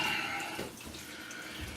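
Tap water runs steadily onto a black RazoRock 400 shaving brush with a 24mm synthetic plisson-type knot, a continuous close splashing rush that eases slightly partway through.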